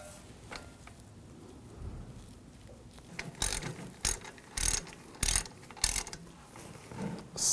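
A ratchet tightens a brake hose banjo bolt on a Chevrolet Colorado, giving quiet clicking pawl sounds followed by several sharp, close bursts of rapid ratcheting spaced about half a second apart, alone.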